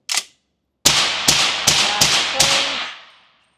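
A Sig Sauer P320 Flux Legion pistol fires five loud, close shots in quick, even succession, each with a sharp crack and ringing echo that fades out after the last. A single sharp snap comes just before the shots.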